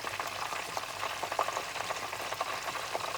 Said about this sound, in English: Now we have to double fry.